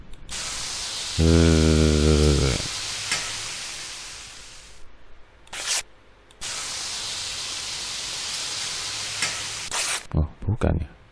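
Fried rice sizzling and hissing in a pan as a cartoon cooking effect in the 2001 educational game DK Play & Learn Reading and Counting, a loud steady crackle with a brief musical jingle and short pauses.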